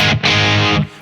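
An electric guitar through a Kraken distortion pedal at a gain setting of 1, sounding as a loud, thick, sustained distorted chord that is briefly re-struck and then rings on.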